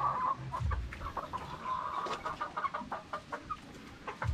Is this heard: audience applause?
no